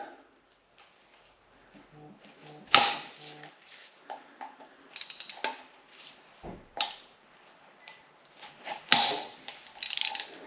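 A ratchet works on T40 Torx bolts on a Subaru Forester engine during teardown, giving faint clicking pawl sounds with scattered metallic clanks and taps, close and quiet.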